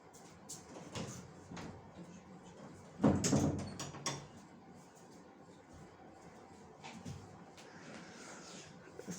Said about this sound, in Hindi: मैं दरवाज़ा बंद कर दूँ